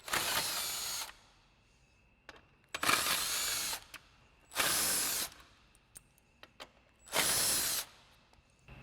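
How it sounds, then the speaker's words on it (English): An impact wrench with a 10mm socket and extension zips out the screws on a truck's grille in four short, loud bursts of whirring rattle, separated by quiet pauses with small clicks. "we'll grab a 10mm socket and extension on our impact"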